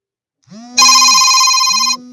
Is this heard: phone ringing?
yes